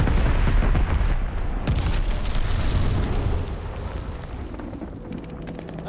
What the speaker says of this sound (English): Enemy glide bomb coming in hot.